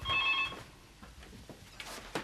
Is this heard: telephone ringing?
yes